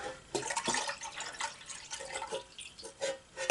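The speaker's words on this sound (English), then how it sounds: "Need to pour a little bit more water in there." Water pours into a pot for melting soap while making soap cupcakes, giving a close, uneven splashing and dripping that runs for a few seconds with no voice over it.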